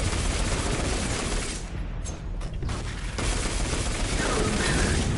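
Gunfire and grenade blasts from the video game Destiny 2, a dense loud barrage of shots and booms that briefly drops out mid-way before the heavy firing resumes.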